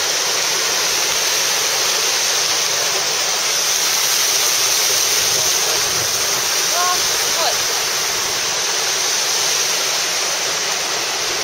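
A waterfall beside a mountain hut near Lake Louise on a Canadian trek roars close by as a steady, loud, unbroken rush of water.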